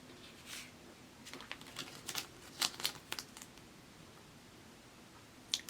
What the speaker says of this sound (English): So I'm removing the backing and the transfer tape.